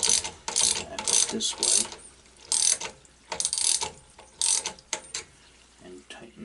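A tool clicks in repeated ratcheting bursts while adjusting a water well pressure switch, close and fairly loud, with brief speech in between.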